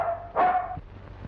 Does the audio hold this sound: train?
no